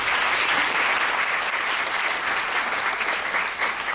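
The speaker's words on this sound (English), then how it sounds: "Please give Kamlesh and Dorul a big round of applause." Audience at a classical Indian dance debut performance (manch pravesh) applauding loudly and steadily, dense clapping filling the whole stretch without a break.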